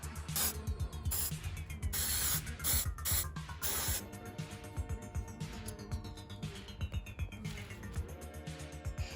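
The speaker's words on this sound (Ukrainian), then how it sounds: "А тепер ми пофарбуємо його зеленим та чорним кольором з балончика." Green and black spray paint hisses from aerosol cans onto a traffic cone, coming as a series of short, sharp bursts and then longer, steadier sprays, close and clear.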